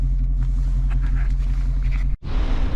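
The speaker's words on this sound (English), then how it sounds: "Now it actually sounds like a muscle car." A Dodge Challenger muscle car fitted with a new exhaust idles with a deep, steady low rumble close by. It cuts out abruptly for a moment, then comes back just as strong.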